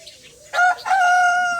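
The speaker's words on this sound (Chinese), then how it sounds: "这又来了一个大公鸡。" A big rooster crows loudly and close by, a drawn-out call that rises and holds, alone without any talking, in a busy farmyard beside a rapeseed field.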